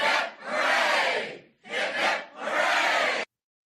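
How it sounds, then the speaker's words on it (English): A group shouts three cheers together, with loud, close bursts of massed voices in a quick hip-hip-hooray rhythm separated by brief pauses. "3 cheers for everybody."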